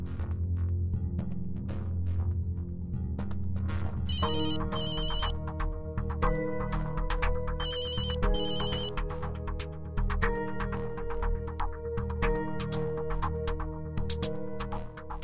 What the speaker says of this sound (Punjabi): ਮੈਂ ਪਾਪਾ ਜੀ ਨੂੰ ਫੋਨ ਕਰਦੀ ਹਾਂ।